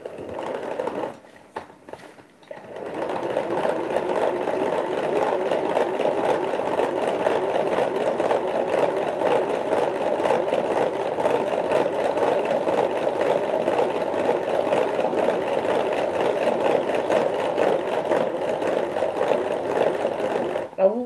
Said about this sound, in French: on va monter les jaunes avec le sucre pour que ça mousse